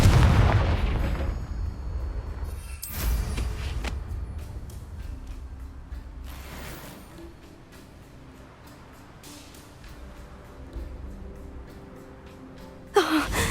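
Confringo fire-spell blasts in the Hogwarts Legacy video game: a loud burst opens, then a few booming hits are spaced several seconds apart over a low rumble, with a final sharp blast at the end.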